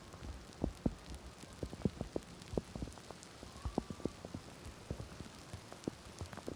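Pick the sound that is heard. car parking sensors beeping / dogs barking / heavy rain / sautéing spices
heavy rain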